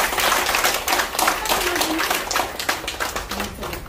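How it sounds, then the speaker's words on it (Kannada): Audience clapping loudly in a room, a lively run of hand claps swelling and slightly uneven in rhythm, close and strong, with some voices mixed in. "ಸೊ ಒಮ್ಮೆ ಜೋರಾಗಿ ಚಪ್ಪಾಳೆ ಮಾಡಿ."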